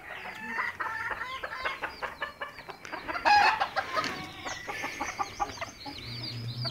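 Hens cluck in irregular bursts close by, with a brief louder squawk partway through and chickens continuing to chatter in a farmyard.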